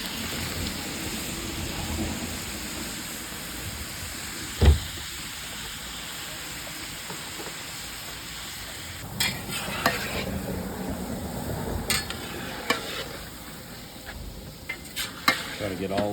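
Pork pieces frying in fat rendered from sausage for Louisiana jambalaya, a soft continuous crackling sizzle with occasional sharp clinks and scrapes of stirring in the pot.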